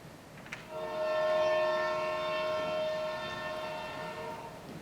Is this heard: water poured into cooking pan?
no